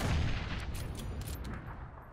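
Muffled gunfire and booming blasts in PUBG, a low rumbling volley at moderate distance with sharper cracks scattered through, no voices.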